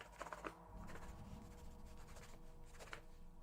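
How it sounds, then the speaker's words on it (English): Measurements are written by hand, with a pen or pencil scratching in short, quiet strokes and light taps, close and faint with no talking. "Let me just write them down quick."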